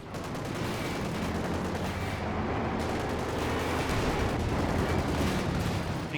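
Gunfire rattles against a German tank hunter in a Company of Heroes 2 match, a dense and continuous battlefield din of shots and distant artillery rumbling steadily throughout with no pause.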